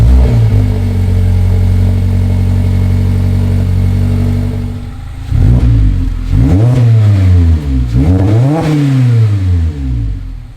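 A Mazda MX-5 Miata (ND) fitted with a Greddy midpipe exhaust idles loudly and steadily, then revs in several rising and falling sweeps, close and alone without talking.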